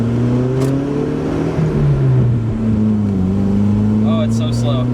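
Engine of a slow 1992 Volvo 240 pulling hard at full throttle, a loud steady drone that holds its pitch and then climbs gradually, with an occasional short voice over it.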